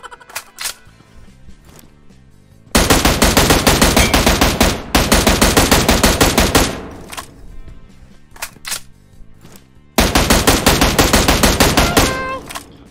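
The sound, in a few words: gunfire from PUBG Mobile video game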